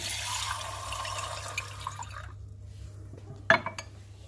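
Water streaming from small tubes in a physics experiment, a bright hissing flow that cuts off midway, followed by a few faint drips and a sharp clink near the end.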